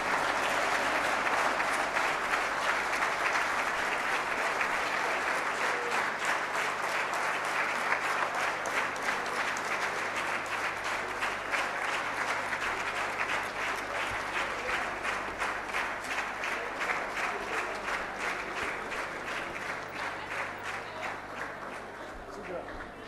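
Sustained round of audience applause filling a hall at a management and HR summit in Lahore, dense continuous clapping holding steady for over twenty seconds before easing slightly toward the end.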